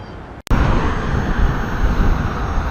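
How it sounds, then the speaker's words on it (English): A strong headwind roars past a rider on a King Song 18L electric unicycle, a loud, steady rush that starts after a brief cutout and holds for the rest of the clip. "Have a very significant headwind right now."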